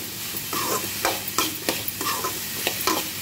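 Vegetables and noodles fry in a small pan with turmeric added, a continuous close sizzle broken by repeated spatula scrapes and stirring strokes in an uneven rhythm, with no voices.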